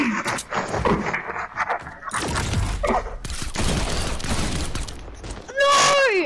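Bursts of gunfire in a video game crackle through a dense, noisy mix, with broadband shots scattered across several seconds before a louder, sweeping tonal sound at the end.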